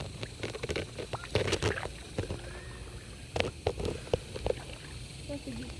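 Paddles dip and splash as a canoe moves along a river, soft irregular strokes and drips close by, with quiet voices talking in between.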